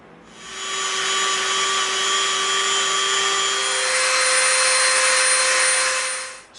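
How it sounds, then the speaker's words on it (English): A Dremel rotary tool rounding the edges of EVA foam for a medieval crossbow prop, a steady high-pitched motor whine with grinding hiss that spins up, holds for several seconds, shifts pitch slightly midway and then stops. "we're going to use the Dremel. We're going to round the edges off"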